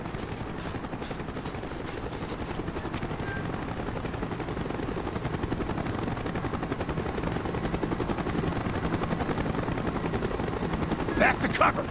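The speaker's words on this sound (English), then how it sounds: "Chopper's inbound! Move it!" Helicopter rotor drone from the Call of Duty Black Ops video game, a steady loud throb running the whole time under gunfire-like bursts and shouted voices, swelling slightly toward the end.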